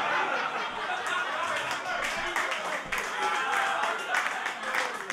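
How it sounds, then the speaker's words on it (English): A comedy club crowd at a stand-up show claps in a steady, close burst of applause mixed with scattered laughter and chatter, continuing for several seconds. "clap it up for yourselves if you're in a monogamous,"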